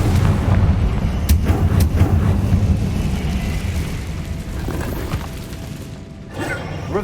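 A Confringo blasting spell goes off in the video game Hogwarts Legacy, with rumbling booms and sharp bursts over dense, continuous game ambience.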